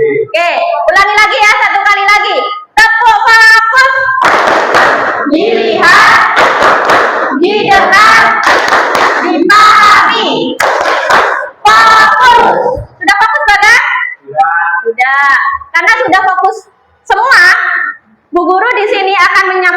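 Students in a class doing the tepuk fokus clapping routine, rhythmic group claps in short bursts alternating with children's voices chanting along, close and lively.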